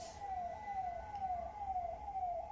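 An ambulance siren passes with a steady wail of repeated falling sweeps, loud and continuous over low traffic rumble, with no talking.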